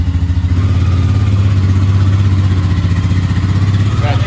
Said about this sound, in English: So you hop on it, start it like your Honda. Starts right up, back it out.